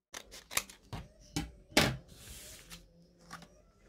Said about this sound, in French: Quand on commence à couper, on commence par l'encolure de dos.